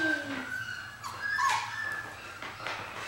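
A tiny Goldendoodle puppy whimpers and yips in short high-pitched cries wanting a treat, close by, with soft background noise.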